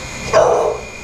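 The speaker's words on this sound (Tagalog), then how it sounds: "Ang laki ng aso." A single short bark from a big dog, fairly close and clear against a quiet background.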